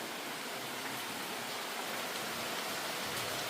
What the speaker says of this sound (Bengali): প্রচুর বৃষ্টি হচ্ছে বাহিরে এত বৃষ্টি ঝমঝম করে বৃষ্টি লাগছে